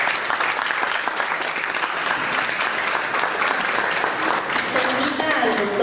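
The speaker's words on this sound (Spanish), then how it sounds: "para quien pido un fuerte aplauso" Audience applause for a lecturer at a law lecture on civil procedure at a university, a dense, steady wash of many hands clapping throughout, loud and sustained without talk.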